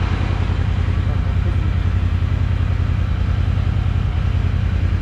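A Royal Enfield Interceptor 650 motorcycle idles through its exhaust. It makes a loud, close, steady low thumping with an even, rapid pulse that holds for the whole stretch.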